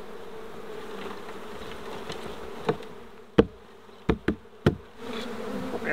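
Honey bees buzz in a steady drone close by during a hive rescue from an orange tree, broken by a few sharp knocks near the end.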